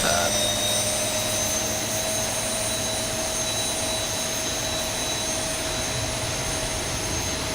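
Boeing 737-200 jet engine running in a flight simulator, a steady continuous whine and roar with sustained tonal lines, even in level throughout with no break.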